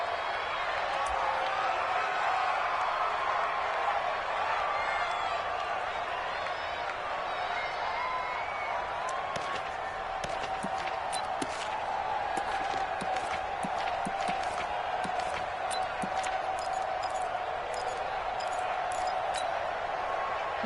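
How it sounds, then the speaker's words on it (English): A stadium crowd in an American football video game keeps up a steady roar and cheer, broad and even throughout with sharp claps and pops scattered across it, while a commentator talks over the top. "the crowd getting into it as we come up on a big 3rd down"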